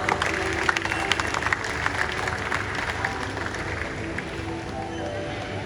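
Spectators at an outdoor bird show featuring raptors and scavengers clap together in a moderate, sustained round of applause, with some spoken voice mixed in and a light outdoor background.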